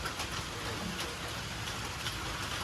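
Rain falls steadily in a mangrove forest near Bangkok by the sea, an even hiss of drops spreading across the whole clip with nobody speaking.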